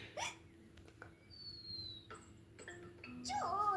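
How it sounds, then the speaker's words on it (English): A cartoon pig hiccups in quiet bursts, a few short yelps spread across a few seconds, with soft talk and small sounds between them. "please stop hiccuping"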